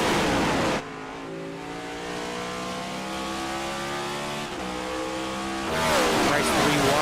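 Race car engines in a sim racing cup series race at Kern County, one engine note climbing steadily through gears then a pack roaring past, with a commentator talking over it.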